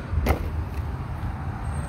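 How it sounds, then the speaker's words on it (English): Steady low road traffic rumble from passing cars beyond a summer garden with a squash and zucchini patch, constant and moderately distant, with a brief whoosh near the start and no talk. "Sorry about the road noise."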